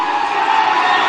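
A large outdoor political rally crowd at Dumri cheers and claps in a steady, dense roar, loud and continuous throughout with no clear voice rising above it.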